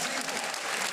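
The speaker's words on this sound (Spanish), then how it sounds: "Déjenme oír esos aplausos." A church congregation claps in sustained, dense applause during a Father's Day service, loud and continuous throughout the brief moment, with a voice faintly audible underneath.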